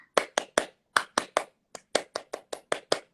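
Tepuk pramuka, the Indonesian scout-style clap performed by hand, rings out as a dozen crisp, close claps in a syncopated pattern: a quick triple, a second triple, then a steadier run of single claps, with no voices.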